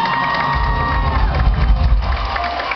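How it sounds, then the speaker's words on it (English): Concert crowd at a show cheering and applauding, loud whoops and shouts over clapping, close and continuous for a few seconds. "Give her a round of applause."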